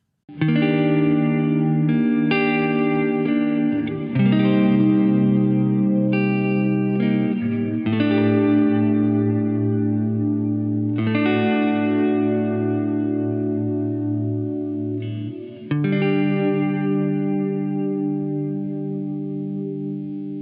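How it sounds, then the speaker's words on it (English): Sustained electric guitar chords ring through a Hardwire RV-7 stereo reverb pedal with pitch modulation, each chord swelling into a long, gently wavering wash of reverb, loud and alone. "That'll make things wobble in pitch ever so slightly, giving things a little bit of movement."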